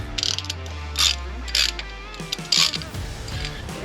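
A ratchet fitted with an 18mm socket tightens the rear brake caliper bolts on a Chevy Silverado disc brake, several quick bursts of close, sharp clicking separated by short pauses.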